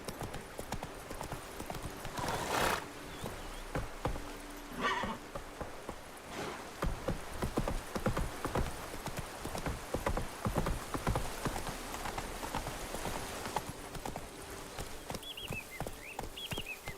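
Hoofbeats of Roach, a horse in The Witcher video game, clatter at a rapid gallop for the whole stretch, with rain pattering in the background and a brief whinny near the end.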